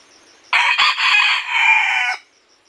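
A small red junglefowl rooster, a labuyo caught in a trap, gives one loud, close crow of about a second and a half that rises sharply and trails off, with quiet surroundings before and after.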